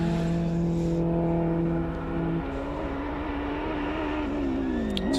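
A front-wheel-drive Honda race car climbing at the Simola Hillclimb, its engine a sustained droning tone that shifts pitch as it accelerates and changes gear, heard from a distance.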